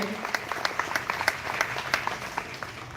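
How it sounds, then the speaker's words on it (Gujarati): Loud applause from a crowd at a school Independence Day celebration in Gujarat, steady rapid clapping with distinct individual claps over a general crowd wash, continuing for the whole stretch. "એમને પણ જોરદાર તાળીઓથી બતાવી લઈએ"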